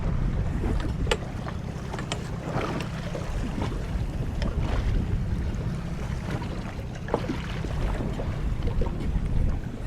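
Wind blowing from the southwest across a small fishing boat at sea in rough, stormy weather: steady, loud roar and microphone buffeting with water slaps and creaks, no voices.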